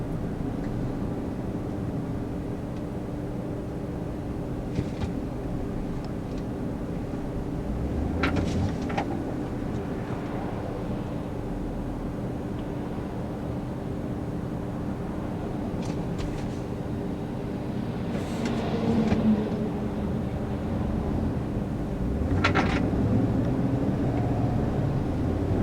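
A 2013 Chevrolet Tahoe full-size SUV cruising on the road, with a steady low engine and road rumble filling the cabin throughout, swelling slightly in a few places.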